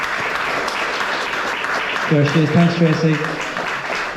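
Audience applause at a runners' meet-the-experts event, a steady broadband clapping that fills the whole clip, with a voice speaking over it near the middle.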